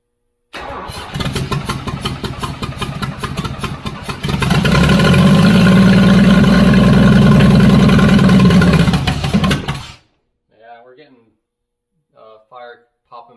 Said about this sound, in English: popping back through the carburetor